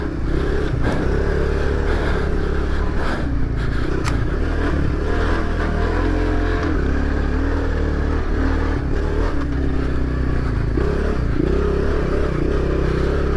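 A motorcycle engine chugs heavily at low revs, a loud rumbling drone with some clatter, steady throughout without revving up.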